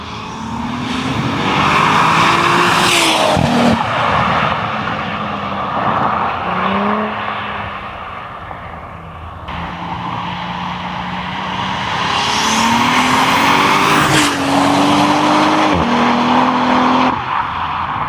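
A 550-horsepower turbocharged VR550T Golf Alltrack driven hard, loud engine revving through repeated rising gear pulls with shifts, tire squeal and sustained close-up roar.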